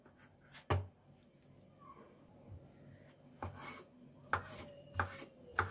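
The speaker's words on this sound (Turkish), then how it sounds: "Daha sonra küçük küçük doğruyoruz." A knife chops roasted, peeled peppers on a board for a Turkish roasted-eggplant breakfast spread, a handful of sharp, separate cuts spaced irregularly, close and fairly quiet.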